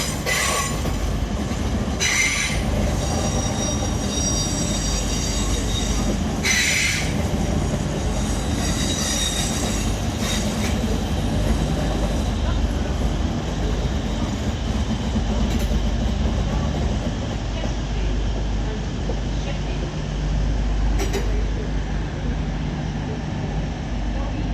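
A Class 360 train at London St Pancras International makes a loud, continuous rumble, with squealing wheels and clattering rail joints early on that fade into a steadier roll.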